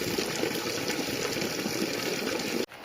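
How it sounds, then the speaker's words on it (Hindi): Cold spring water gushes steadily and loudly from a mountain spring outlet, a continuous close rushing flow that cuts off abruptly near the end. "अभी हम भी आ गए हैं धारे में। यहाँ से ठंडा ठंडा पानी लेके चलते हैं अपने खेत में"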